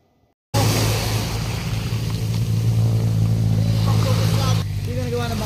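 An outrigger boat engine running on test, starting abruptly after a brief quiet moment, then droning loud and steady with a strong low hum and a slight shift near the end.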